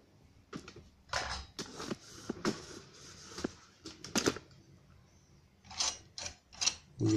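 A Prescott wood router's ring nut is locked by hand, giving a series of sharp metallic clicks and ratcheting snaps in irregular bursts, close and fairly quiet with no talking.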